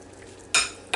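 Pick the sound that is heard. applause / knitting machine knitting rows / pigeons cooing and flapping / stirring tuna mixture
stirring tuna mixture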